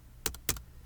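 Two quick keystrokes on a computer keyboard during a Bash programming session, sharp clicks close by with a short gap between them and no talk.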